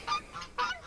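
A goose honking twice, loud nasal calls close by, each a short harsh blast with a brief gap between them.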